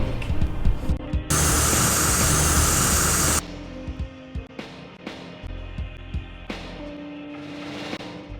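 A Hacks skateboard spray can lets out a loud, sustained hiss lasting about two seconds, set among sharp clicks and knocks before and after.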